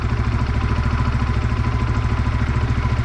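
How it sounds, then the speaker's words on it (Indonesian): A Honda Vario scooter engine runs steadily at idle close by, a continuous rumbling putter with a fast, even pulse and no voices. "Ya kayak gini suara mesinnya."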